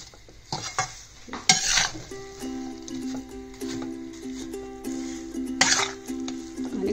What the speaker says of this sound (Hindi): ड्राई फ्रूट भी मॉइस्चर खत्म हो गया, सिकने लग गया, और 1-2 मिनट चला लेते हैं